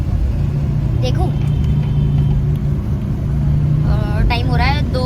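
An old car rolls along a road with a steady low engine rumble heard from inside the cabin, and voices talk over it throughout.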